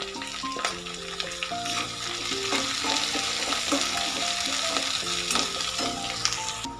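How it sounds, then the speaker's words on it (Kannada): Onion, curry leaves and green chillies fry in a pan for poha bath, giving a steady, close sizzle throughout with clinks of stirring and no talk. "ಅದನ್ನು ಹಾಕಿ 1 ನಿಮಿಷ ಎಲ್ಲವನ್ನು ಫ್ರೈ ಮಾಡ್ಕೊಳ್ಳೋಣ."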